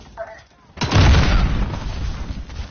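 A grenade blows up in the shooter Modern Warfare, a sudden loud boom with a rumbling tail that follows a quieter stretch of talk.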